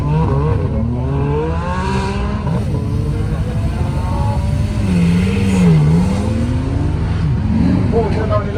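A Ford Mustang supercar accelerates hard in a straight line, its engine revving up through rising pitch sweeps and dipping between shifts, loud and close against steady background noise.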